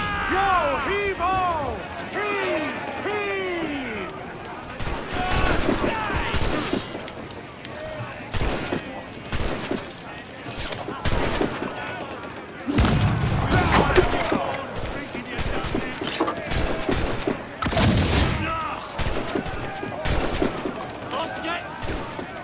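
Ship cannons fire in the Assassin's Creed 4 Black Flag video game, a rapid broadside of booming shots over several seconds, with shouted crew orders and sea battle noise around them.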